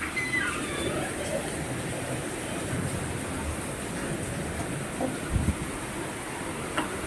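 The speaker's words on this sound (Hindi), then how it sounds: "इतनी तेज वाली बारिश।" Steady, dense hiss of heavy rain pouring continuously, with occasional faint knocks and thuds in the background.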